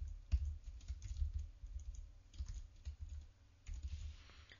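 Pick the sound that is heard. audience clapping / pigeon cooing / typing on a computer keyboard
typing on a computer keyboard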